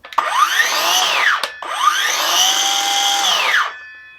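A Kobalt 6.5-inch 24-volt cordless circular saw spins up with a loud, close whine, dips briefly, then revs again and winds down, no one speaking over it.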